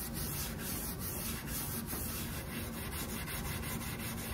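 Wooden chair arms are hand-sanded in straight strokes, giving a steady, close, continuous gritty rubbing with faint rhythmic pulses and no voices.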